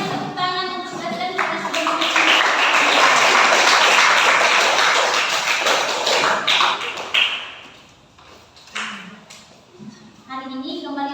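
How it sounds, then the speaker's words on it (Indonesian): A sixth-grade religion class of children claps for a classmate, a loud burst of applause that swells and then trails off into scattered claps, with children's voices and a teacher talking before and after. "Ayo semuanya beri tepuk tangan untuk present."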